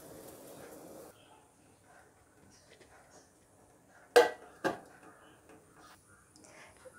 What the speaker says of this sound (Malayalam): ഇനി നമുക്കിത് ഓഫ് ചെയ്തിട്ട് കുറച്ച് നേരത്തേക്ക് അടച്ചു വയ്ക്കാം